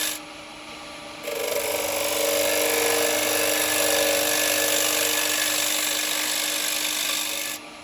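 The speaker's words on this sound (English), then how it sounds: "I just want to take a little bit more out of this corner here" A carbide tool hollows a wooden bowl on a spinning lathe, making a steady, close, hissing scrape that runs for several seconds before cutting off, with the motor's hum beneath it.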